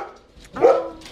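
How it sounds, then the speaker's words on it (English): Household dogs bark indoors as someone arrives home, a single loud close bark rising from softer, muffled yips. "Dogs start barking"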